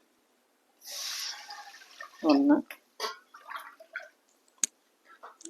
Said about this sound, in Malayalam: ഇങ്ങനെ വെള്ളം ഒഴിച്ചു കൊടുക്കാം നമ്മൾ എടുത്ത പാത്രത്തിൽ തന്നെ നാല് പാത്രം വെള്ളം ഒഴിച്ചു കൊടുക്കാം